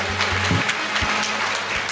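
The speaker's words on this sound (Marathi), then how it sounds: "मग टाळ्या वाजवायला रोग झाला का तुम्हाला?" Audience clapping at a comedy kirtan, a steady dense patter of many hands filling the room, fairly loud and continuous with a few sharper claps standing out, no speech over it.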